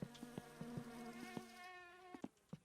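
Mosquito in the video game My Summer Car, a steady thin whining buzz that drones for the whole stretch, nearly alone, with a few soft clicks.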